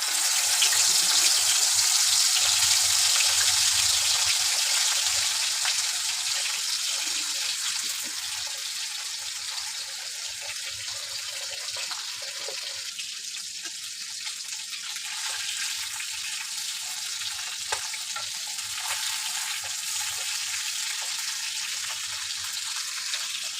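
Koi fish, pre-rubbed with salt and turmeric, fries in hot oil in a kadai with a continuous loud bubbling sizzle that eases slightly after the first few seconds and carries on steadily for the full stretch.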